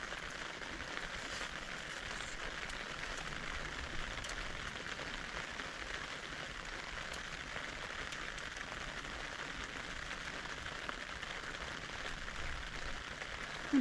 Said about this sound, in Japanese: 今日雨だ。